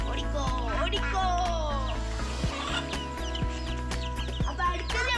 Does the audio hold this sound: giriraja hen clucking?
yes